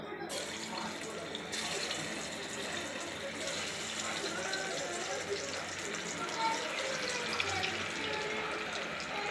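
Marinated chicken 65 pieces dropped one by one into hot oil give a continuous close frying hiss with bubbling crackle throughout, without talk.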